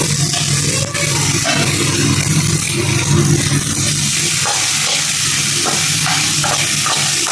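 Large-cut green chillies fry in hot oil for a ridge gourd and tomato chutney, giving a loud, dense, continuous sizzle and roar up close, with faint stirring scrapes and no talk.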